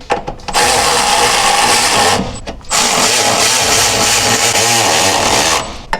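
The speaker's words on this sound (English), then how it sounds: "I'm gonna go in here with a quarter drive ratchet." A quarter-inch drive tool runs a rear sway bar bolt on a GTI, a loud, close, continuous whirring drone in two long runs with a brief pause between them.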